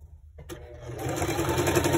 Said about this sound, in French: Il va bien la refermer et il va faire une surpiqûre tout le long